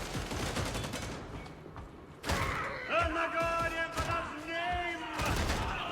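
Gunfire in Warhammer 40K: Darktide, a few sharp shots and thuds amid game noise, with ringing tones and a voice talking under it.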